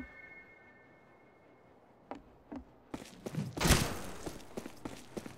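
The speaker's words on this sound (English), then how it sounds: "I can hear you walk past the sniper" Footsteps of a player walking past in a Western-themed multiplayer shooter map, a few soft thuds at first, then a busier run of steps and knocks, moderately close.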